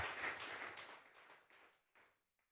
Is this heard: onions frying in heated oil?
no